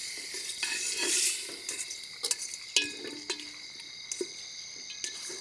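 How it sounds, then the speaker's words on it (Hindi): Chicken frying with onions in a pan over a campfire in a winter forest camp, a soft steady sizzle broken by scraping stirs and light metal clinks of utensil against pan. "अच्छे से चिकन को फ्राई करेंगे ना पहले प्याज के साथ।"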